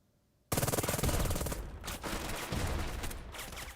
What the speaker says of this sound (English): Okay, they're shooting back at the enemy. They're getting shot at over here, though.